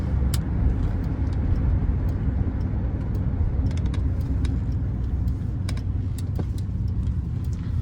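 A 1979 Cadillac Coupe deVille on the move, its steady low engine and road rumble filling the cabin continuously, with faint rattles and small clicks over the drone.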